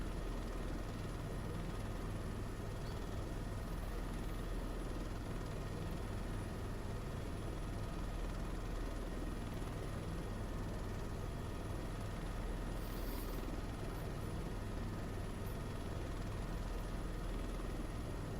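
A helicopter flying in Microsoft Flight Simulator 2024, a steady, continuous rotor and engine drone that stays even throughout with no talking over it.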